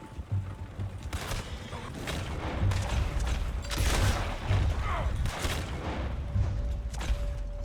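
Gunfire in Red Dead Redemption 2: a rapid series of sharp shots and cracks at irregular intervals, mixed with background game noise and rumble.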